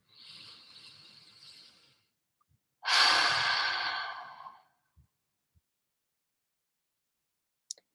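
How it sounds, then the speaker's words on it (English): A slow, deep inhale is followed after a pause by a louder, longer exhale, both close and airy in an otherwise quiet room, ending in near silence. "take a deep inhale and exhale"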